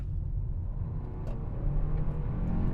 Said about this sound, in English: what I'm gonna do is stab the gas, put my foot to the floor